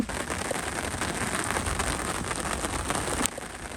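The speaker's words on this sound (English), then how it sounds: "Here comes the rain." Rain falls on an outback campsite in the Australian bush at the edge of a storm, a dense, steady, close patter with one louder thump near the end. No one speaks.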